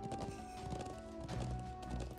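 A horse galloping in the video game Trails of Cold Steel 3, a quick rhythmic clip-clop of hooves at moderate distance over game music, fairly quiet and continuous.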